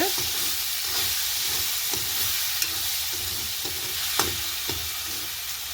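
Salted eggplant frying in a pan while being stirred: a constant close sizzle broken by scraping utensil strokes and a few sharper clinks, no talking.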